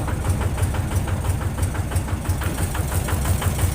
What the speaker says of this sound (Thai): เปิด PTO นะครับ แล้วก็ยกเลย ครับ มันก็ขึ้นเลยครับนี่